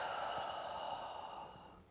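A long, steady breath out during a beginner mat Pilates exercise, a breathy hiss that holds evenly for about two seconds and fades slightly at the end, close and alone with no talking.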